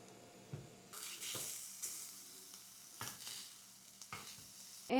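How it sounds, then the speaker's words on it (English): Sausage sizzling in a frying pan, a soft steady crackle with intermittent scraping stirs and clatters, fairly quiet and close, no voices. "I'm gonna go ahead and start cooking our sausage."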